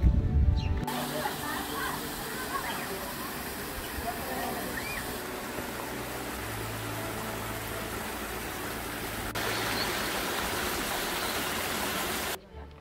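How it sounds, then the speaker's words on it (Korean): The largest waterfall in a valley at En Gedi, west of the Dead Sea, pours as a constant, full rushing roar heard from nearby, steady throughout without any talking. "저기 다이 폭포가 보이고 있습니다."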